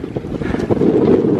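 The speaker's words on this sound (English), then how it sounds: "It's pretty windy out here," Strong wind buffets the microphone aboard a small sailboat with the jib up and reefed down, a loud, gusty roar with water and rigging noise mixed in, continuous and close throughout.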